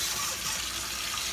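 Warm water runs from a tap into a sink in a steady, close hiss and splash that fills the whole moment without talk.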